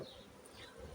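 Drone honeybees buzzing inside a hive in late April, a soft, steady close hum with no voices, low in level throughout.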